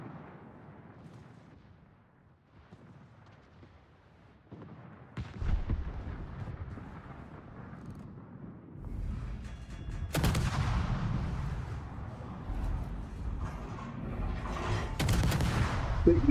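Warship guns in World of Warships fire as heavy booming blasts, starting low and muffled, then growing into loud, rumbling salvos with roaring sustained thunder toward the end.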